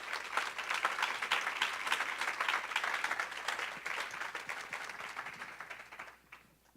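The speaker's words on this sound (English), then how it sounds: "So Donna Loring, please give her a round of applause." An audience at a university lecture applauds to welcome Donna Loring, a dense steady clapping from a hall crowd that holds for several seconds then tapers off to near silence at the end.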